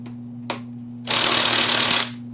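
Power tool or ratcheting socket wrench working on the spark plug of a Kawasaki KLR engine during a teardown, a brief click then about one second of loud close buzzing whir over a steady background hum.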